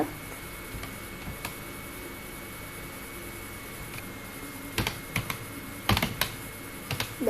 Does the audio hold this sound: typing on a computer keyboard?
yes